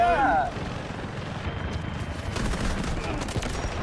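Gunfire in Delta Force: a sustained rattle of distant shots rolls under faint background noise, with a brief tonal sound at the start, moderately loud and with no talk.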